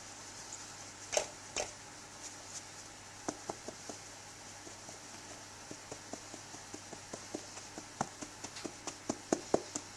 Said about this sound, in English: Now we're just going to sift this all together into the big bowl.